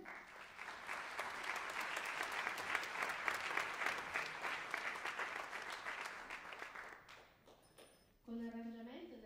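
A concert audience applauds in a dense, sustained burst that thins toward the end, then a voice begins speaking as the clapping dies away.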